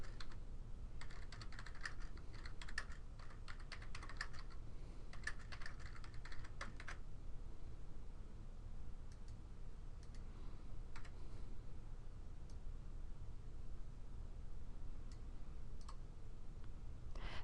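Keys clatter in a quick run of typing on a computer keyboard for several seconds, then thin out to a few sparse taps over a soft, steady room hiss.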